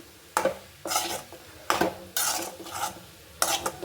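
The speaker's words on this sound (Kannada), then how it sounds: "ಲಾಸ್ಟಲ್ಲಿ ಕೊತ್ತಂಬರಿ ಸೊಪ್ಪು ಹಾಕ್ಕೊಂಡು ಮಿಕ್ಸ್ ಮಾಡಿಕೊಳ್ಳಿ" Egg curry with coriander leaves stirred in a pan, repeated scraping strokes of a spoon against the pan in an uneven rhythm with light sizzling between, close and clear.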